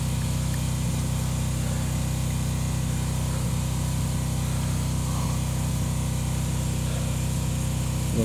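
A 12-inch wood lathe spins a cherry crotch-figure bowl blank, making a steady, loud motor hum and whir with a constant drone that never lets up.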